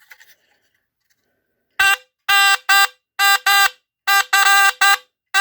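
ARO Vigilant fire and burglar alarm under test blares loud, harsh electronic horn bursts in an irregular stuttering pattern after a second of near silence.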